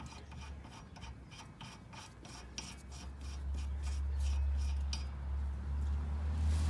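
A Cunningham Machine tie rod sleeve is threaded by hand onto a tie rod on a GSC 6.5L diesel truck: a rapid run of scraping, rasping metal-on-metal strokes, close by, under a low steady rumble that swells toward the end.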